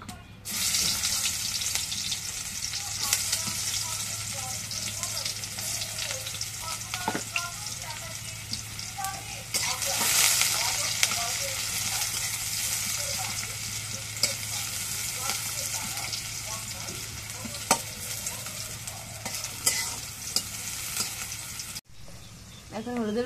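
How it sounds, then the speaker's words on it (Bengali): Chopped onion frying in hot oil in a wok in a home kitchen, a loud, steady sizzle with occasional stirring scrapes, continuous for about twenty seconds with faint voices beneath. "এখন পেঁয়াজ কাটা দিয়ে দিই।"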